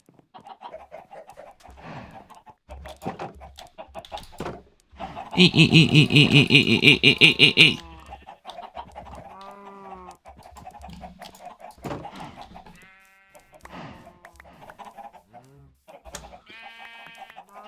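Minecraft chickens cluck in short bursts amid game sounds, with a loud burst of other game noise in the middle and someone talking over parts.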